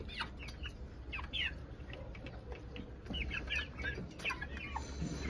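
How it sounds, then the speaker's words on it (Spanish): Broiler chickens eating inside a wide cage, giving soft scattered clucks and chirps over a low, busy background, fairly faint and close. "Ahí están comiendo pollos de engorde, pollos franceses."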